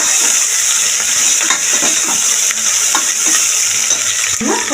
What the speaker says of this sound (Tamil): இப்போ நம்ம பொடிசா கட் பண்ணி வச்சிருக்கிற வெங்காயத்தை சேர்த்துக்கிறோம் நல்லா